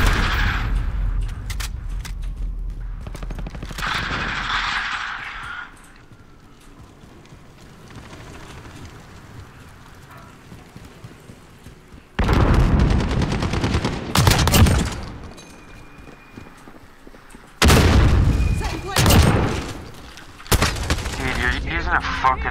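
Bursts of gunfire from Call of Duty Modern Warfare (2019) multiplayer, with a shotgun in use, come in loud dense volleys, quieter gaps and sharp repeated shots, with players talking at times.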